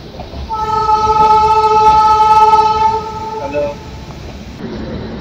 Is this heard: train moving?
yes